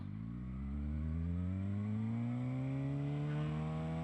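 A Suzuki GSX-R 600 sport motorcycle's engine rises steadily in pitch as it accelerates, a loud continuous buzzing roar heard from the rider's position.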